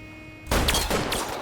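Gunfire in the L.A. Noire video game: after half a second of quiet, loud dense shots burst out close and keep crackling as a sustained volley to the end.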